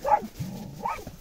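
Hunting dogs bay at an armadillo during a hunt: two sharp yelping barks with a lower drawn-out howl between them, heard from a moderate distance in the open.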